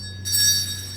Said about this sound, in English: can stop time with a mere ring of my bell